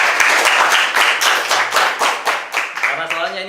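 A crowd claps and applauds steadily for a few seconds, loud and close, with voices mixed in under the clapping.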